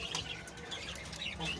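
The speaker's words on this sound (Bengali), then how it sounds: "কবুতরগুলা ওনার হাত থেকে আদার খেতেছে।" Pet pigeons take feed from a person's hand. Faint chirps and soft coos rise in short bursts over a quiet, murmuring background.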